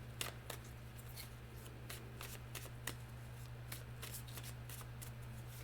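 Tarot cards being shuffled by hand, a series of quick crisp riffling snaps spaced irregularly over a low steady hum, close and fairly quiet with no talking.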